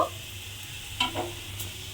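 Chopped red amaranth greens drop into onions already fried until browned in a pan, giving a short burst of sizzle and stirring against a steady low frying hiss.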